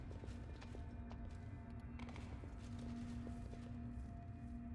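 Horse hooves clip-clopping in the video game Pathfinder: Wrath of the Righteous, a steady walking rhythm of soft thuds over a constant low hum, faint and alone.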